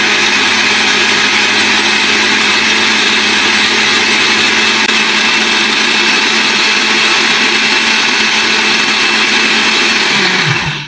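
A blender whirs loud and steady as it mixes a strawberry shake with half a glass of milk, the high motor roar running continuously and winding down at the very end.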